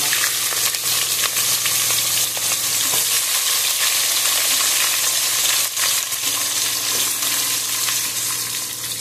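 Onions with garam masala frying in a pan until golden, a continuous close sizzle and crackle with occasional stirring scrapes, holding at an even level with no talking.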